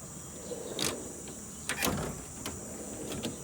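Drawers on a new Matco tool box glide open in a few brief bursts, each a quick metallic rolling slide with small clicks, heard close against a quiet background hum and no speech.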